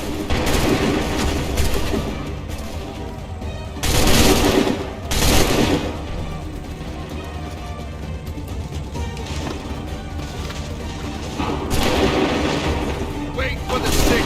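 A battle volley of gunfire erupts in loud, dense broadband bursts, with heavy blasts around the start, middle and end over a continuous rumbling din.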